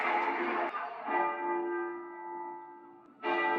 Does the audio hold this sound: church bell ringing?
yes